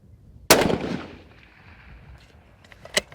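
A single loud rifle shot at an outdoor shooting range, with a sharp crack and a rolling echo that fades over about a second, followed by a fainter click.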